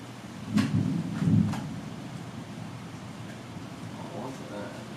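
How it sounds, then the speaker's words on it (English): A low, rolling rumble of thunder swells twice in quick succession, then fades into a steady background hiss with faint voices. "It's thunder."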